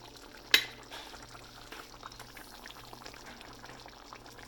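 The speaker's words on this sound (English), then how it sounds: "I'm going to add my lemon juice" Lemon juice is poured into bubbling chicken tikka masala sauce, a quick splash followed by soft, faint simmering and bubbling under a low steady background hum.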